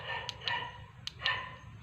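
Barking from a big dog at night, a few sharp, distant barks spaced irregularly over a low steady background hum.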